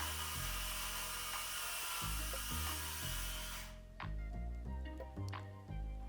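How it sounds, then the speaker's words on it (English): A power saw ripping MDF sheet along a clamped straight-edge guide, a steady loud whining drone that cuts off abruptly partway, leaving lower motor hum and scattered clicks. "we're going to cut 3 16-inch wide by 5 foot long pieces of MDF out here"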